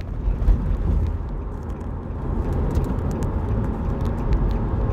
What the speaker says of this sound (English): I'm driving while I do this.